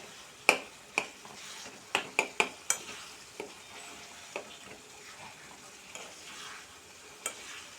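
Instant tomato pachadi with fresh coriander is stirred in a pan, a spoon clicking and tapping sharply against the metal in an irregular series over a soft background sizzle, no talking.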